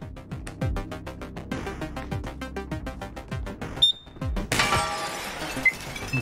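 Glass shattering inside a video game while a loaf turret is being built, a sudden bright crash and tinkling spray of shards that cut through ongoing rhythmic game sound effects and music.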